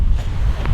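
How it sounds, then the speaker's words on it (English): Strong wind blusters across an outdoor archery range, a steady broadband roar buffeting the microphone without a break, loud and close, with no voices present. "Now it's pretty windy, I don't know if you can see behind me, but there's a fair bit of wind."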